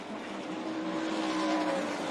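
NASCAR race trucks roar past at the Milwaukee track, a continuous, loud engine drone with rising pitch as the pack sweeps by, heard alone without commentary.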